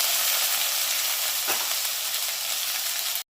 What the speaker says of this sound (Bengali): এবারে এটাকে একটু ভাজতে দেবো